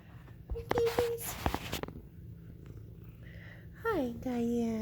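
Low, steady purring from pet cats runs beneath close indoor sounds, while someone speaks softly to them and a high meowing or cooing voice rises near the end.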